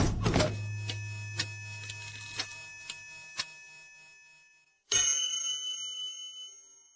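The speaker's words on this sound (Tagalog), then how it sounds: "narinig niyo ba ang tunog ng kampana?" A bright bell is struck, its tone ringing out and slowly fading, then a second sharp strike rings and decays again.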